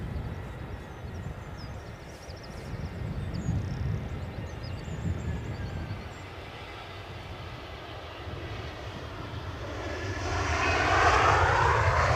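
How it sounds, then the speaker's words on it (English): An EasyJet Airbus A320 airliner at Edinburgh Airport gives a sustained engine roar that swells toward the end as it nears, with a steady broadband rumble and no talk. "An EasyJet from Belfast, an A320."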